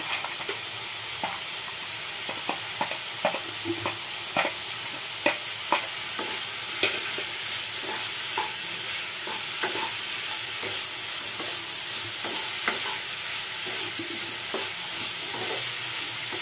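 Potatoes and boiled chickpeas sizzle in a pan as a spatula stirs them, with a steady crackling hiss broken by regular scraping knocks, heard close and without voices.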